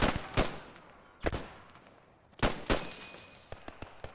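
Sharp rifle and gun shots ring out in the Post Scriptum video game, several loud separate cracks with echoing tails, followed by a quicker run of fainter, more distant pops.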